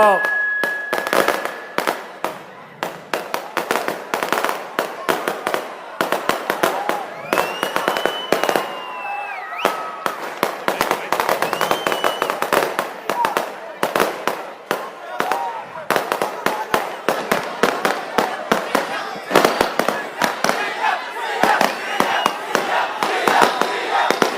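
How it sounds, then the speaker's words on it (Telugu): Firecrackers burst in rapid, irregular volleys during an outdoor political rally speech, dense loud pops running throughout under a murmuring crowd and occasional voices. "క్రాకర్స్ ఎవరో కాలుస్తున్నారు"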